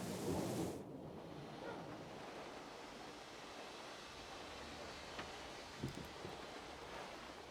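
A thunderstorm in the video game Syberia: The World Before, heard as a steady roar of wind and rain with a louder rumbling burst at the start and faint cracks later, without talk.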